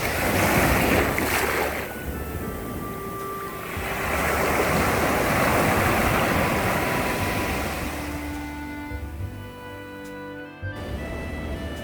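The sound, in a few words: ocean waves at Gemela Beach, Puerto Vallarta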